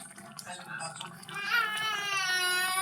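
A young child cries and sobs in a home kitchen while sinigang is being prepared, the wailing growing louder and more sustained toward the end, with an adult voice talking close by.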